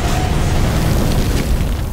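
A heavy weapon firing in a science-fiction battle, a loud continuous explosive roar with deep rumbling body that holds steady for a couple of seconds without any speech.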